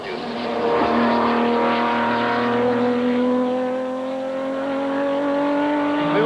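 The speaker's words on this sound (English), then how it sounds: "Watching the cars, I was fascinated by the duel between the Jaguars and the Porsches." Race cars at the 1988 Le Mans 24-hour race, Jaguars dueling with Porsches, scream past in a long loud engine whine whose pitch climbs steadily as one car holds its throttle.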